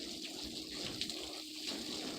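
Water rinsing a car hood, a steady, fairly quiet spray and splash running continuously without break.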